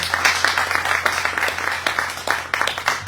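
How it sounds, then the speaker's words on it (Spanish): A church congregation claps during a sermon, brisk overlapping applause with a constant low hum beneath it throughout. "démosle un aplauso"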